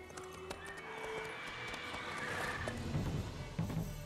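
Roach, Geralt's horse in The Witcher 3, lets out a whinny over clip-clopping hoofbeats, fairly faint under game ambience.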